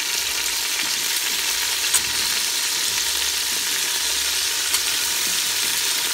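Oxtail pieces sizzle and fry steadily in a pan, a dense continuous crackle held at an even, close level for the whole stretch, with a couple of brief clicks as the meat is flipped.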